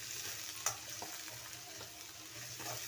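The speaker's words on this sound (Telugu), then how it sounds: "కట్ చేసి పెట్టుకున్న ఆనియన్స్ని కూడా వేసుకున్నాను. వేసుకొని ఒకసారి కలుపుకోవాలి." Onions being stirred into hot oil with spices, frying with a steady soft sizzle and light scraping, one sharper clatter early on, no voices.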